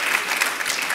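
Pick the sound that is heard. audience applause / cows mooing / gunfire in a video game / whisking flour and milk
audience applause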